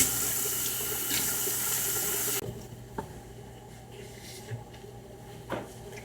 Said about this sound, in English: I'm gonna go ahead and rinse this off first.